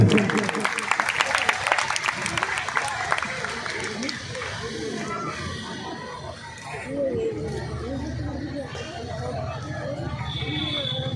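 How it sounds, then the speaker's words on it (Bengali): Applause at a dance programme's annual event in Kamarpukur rises strongly at first, then thins into crowd chatter and babble with voices talking over it. "একটু জোরে করতালি রুদ্রদার জন্য"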